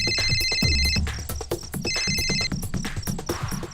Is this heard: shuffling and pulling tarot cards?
no